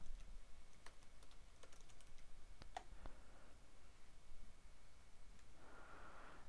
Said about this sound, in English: So I'm going to type in that SKU